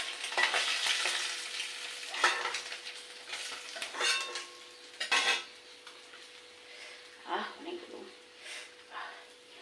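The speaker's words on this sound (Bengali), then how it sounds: "এইভাবে মাছগুলোকে ভাজি করে নেবো" Utensils scrape and stir fish frying in a pan with occasional clinks, and a soft sizzle of frying sits beneath the intermittent clatter.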